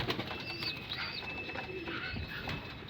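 Pigeons coo softly in a loft at morning, a low murmuring call repeated over steady ambient noise, with faint chirps and rustling nearby.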